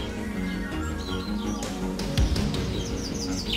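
Hoopoe calls outdoors, a series of short, fairly loud chirping notes repeated over a steady low background, with no voices.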